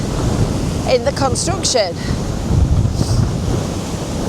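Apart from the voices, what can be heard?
waves crashing against a sea wall on a windy day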